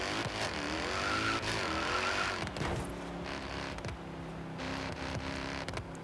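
Drift-tuned 1997 BMW M3 in Forza Horizon 3, its engine revving and shifting up and down while tires squeal through drifts on an Outback road, loud and continuous with short bursts and lifts.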